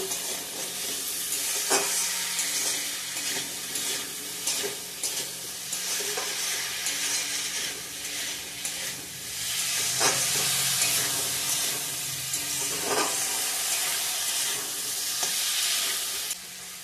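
Ingredients for mango chutney fry in a pan, with a steady loud sizzle and hiss and occasional sharp scrapes and clinks from stirring.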